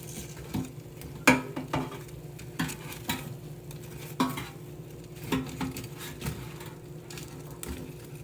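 Chicken pieces are turned over in an air fryer basket with a series of close metallic clinks and scrapes, irregular taps over a low steady hum and a faint sizzle, with no talking.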